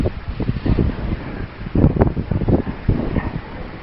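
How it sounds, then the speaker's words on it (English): Wind before a thunderstorm gusts across a rooftop in Malta, a steady, rough, loud rush of buffeting and microphone noise that swells and dips without pause, with no voices. "Wind has already started also."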